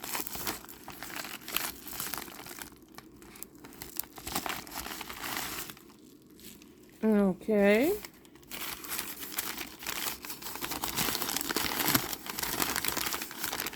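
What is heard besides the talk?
paper sack crinkling while unwrapping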